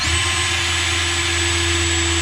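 A power driver runs continuously at a steady high pitch while securing screws on a barn owl nest box mounted against steel sheeting, a loud close whine without pauses or voices.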